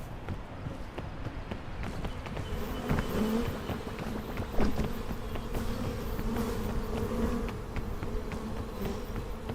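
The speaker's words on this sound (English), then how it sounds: "And we just run in circles until the bees go away." Bees buzzing in a video game, a steady insect drone with faint repeated footsteps running underneath, no talking.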